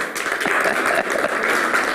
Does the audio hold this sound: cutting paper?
no